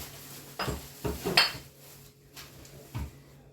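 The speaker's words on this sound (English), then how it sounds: "Now just stir that up if you want the spatula." A spatula clinks and scrapes against a metal bowl while jalapeño cheddar beer bread batter is stirred, several sharp knocks in an uneven rhythm with quieter gaps between.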